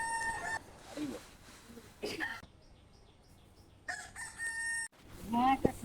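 A rooster crows several times in drawn-out calls at moderate distance, with quiet gaps between them and a brief voice near the end.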